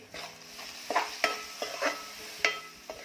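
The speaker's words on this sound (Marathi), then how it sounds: "त्यामुळे डाळाशी परतून घ्यायची आहे." Moong dal sautéed in a pan: a spatula scrapes and stirs in several distinct strokes over a soft, steady sizzle, close by and without any voices.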